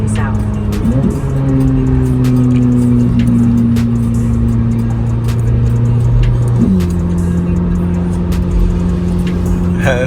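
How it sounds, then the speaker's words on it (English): A 2026 Chevrolet Corvette Z06 engine drones loudly from inside the car while driving, with rising and falling gear-change pitch steps and a throaty rev around the middle; speech is likely present at times. "This car makes some pretty spectacular sounds."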